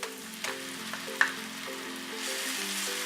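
Ginger garlic paste and green chillies frying with golden-brown onions for egg curry, a steady close sizzle with small crackling pops and faint stirring scrapes.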